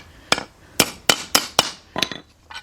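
A brass hammer strikes a rear brake part on a 2000 Isuzu Rodeo 3.2, seven sharp metallic knocks in an uneven rhythm, close and clear with no speech.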